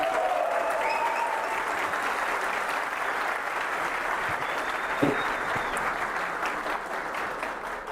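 Sustained applause from a political event crowd in Criciúma, steady and dense across the whole stretch, with a few louder claps standing out and faint voices underneath.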